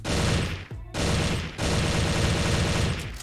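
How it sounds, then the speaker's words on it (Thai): An M4A1 rifle in the shooter game Bullet Angel fires in fast, dense automatic bursts, loud and close, with two brief pauses splitting the volleys into three strings. "ปืนนี้เนี่ยข้อดีของเขาก็คือเขาลั่นไวนะ"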